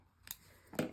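Scissors snip thread tails on the back of a sewn chibi horror bag, with a few sharp close cuts toward the end after a quieter start.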